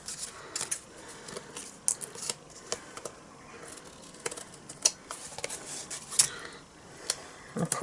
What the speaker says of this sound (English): Now I'm just going to cut all the overhang off.